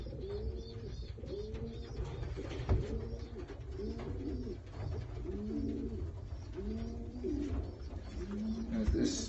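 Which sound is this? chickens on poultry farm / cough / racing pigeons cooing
racing pigeons cooing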